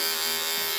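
Electric barber hair clippers buzzing steadily and close for under a second, cutting hair during a barbering tutorial, no voices.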